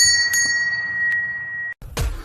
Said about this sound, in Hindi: एक कुल्फी वाला अपनी हाथ गाड़ी की घंटी बजाते हुए उसके सामने से जा रहा होता है।